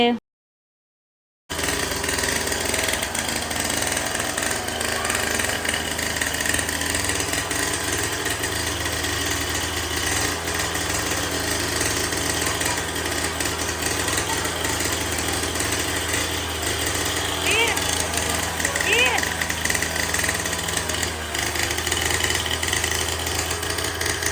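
A kids' dirt bike engine runs steadily inside a shop, a continuous droning, idling motor sound held at an even, fairly loud level for over twenty seconds after a brief silent start, with no talk.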